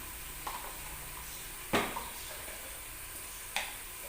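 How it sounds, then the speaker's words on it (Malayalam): Ginger, green chilli and garlic sauté in a pan for Thalassery chicken dum biryani, a soft steady sizzle broken by a few sharp spatula scrapes and knocks against the pan, close and with no voices. "ഇനി ഒരു 4 മിനിറ്റോളം ഇങ്ങനെ വഴറ്റുക."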